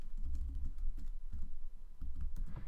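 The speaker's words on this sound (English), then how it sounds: "Or I can type Reformed" Quick soft keystrokes on a computer keyboard as a search is typed, an irregular clatter of taps close to the microphone with no talk.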